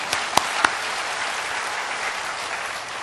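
A church congregation applauds after a missionary's testimony, a dense wash of clapping at moderate volume with a few sharper hand claps near the start and no talk over it.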